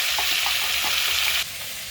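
A fish head frying in hot oil makes a loud, close, hissing sizzle that runs steadily, then drops abruptly to a quieter bubbling near the end.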